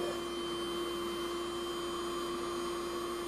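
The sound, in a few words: vacuum cleaner sucking up cleaning powder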